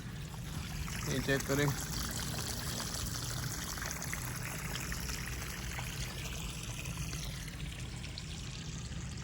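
Irrigation water runs through a garden in a steady low stream, a constant wash of flow lasting the whole stretch while someone talks over it.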